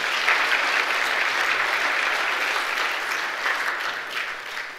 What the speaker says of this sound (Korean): 큰 박수로 한번 축하하겠습니다.